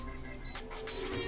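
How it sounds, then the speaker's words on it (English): Steady high electronic tones beep repeatedly, three or four short bursts over a low hum of background noise, with no one talking. "I'm sorry for the beeping."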